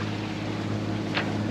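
A sailboat motor-sailing under light sail with engine assist, leaving the Gulf of Palermo off northern Sicily; a steady low engine drone hums beneath continuous wind and water noise, with no voices.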